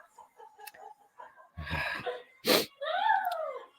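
A person sneezes once sharply and loudly mid-clip, between short breathy vocal sounds and a rising whimpering or laughing voice, with faint talk and background noise around it.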